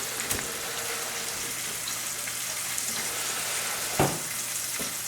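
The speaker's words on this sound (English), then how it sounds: "I'm cooking some steak, Millie." Steak frying in a pan gives a steady, close sizzle with a faint watery crackle running throughout, broken by a couple of sharper pops near the end.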